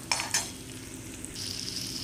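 Pistachios and other nuts fry in a pan for a sheer kurma dessert, giving a soft, fairly quiet sizzle with a couple of brief clinks of the stirring utensil near the start.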